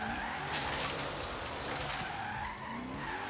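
Ford Mustang driving and skidding in the Forza Horizon 3 Hoonigan racing game, a steady loud engine roar with tire squeal running throughout, no talking.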